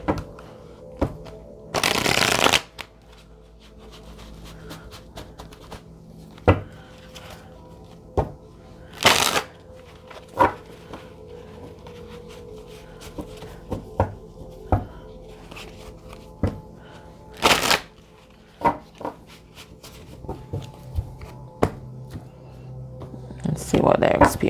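An oracle card deck is shuffled in hand, with repeated short riffles and soft slaps between quieter handling noises, while a person talks throughout.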